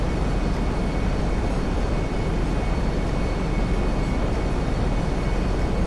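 A jet airplane engine in GTA 5 drones loud and steady throughout, a constant broadband roar with no speech.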